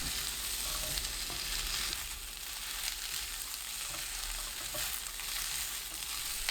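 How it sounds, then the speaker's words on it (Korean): Fish cake, onion and minced garlic stir-fry in oil over medium heat, giving a steady, even sizzle with a soft constant hiss throughout and no voices. "팬에 식용유 1큰술, 양파 100g, 어묵 200g, 다진 마늘 1큰술 넣고 중불로 3분 볶습니다."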